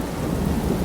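Steady heavy rain pours with a deep rolling rumble of thunder underneath, loud and continuous throughout the brief moment, with no voices.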